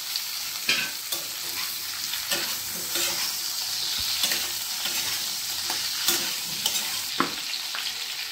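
Potatoes fry in hot oil in a wok for an Odia prawn and potato curry, with a steady close sizzle and intermittent stirring scrapes and taps over it, and no talking.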